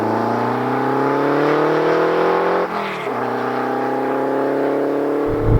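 A Renault 5 Turbo 2 with a 160-horsepower engine revs up in a rising drone, dips briefly as it shifts, then climbs again, loud and close.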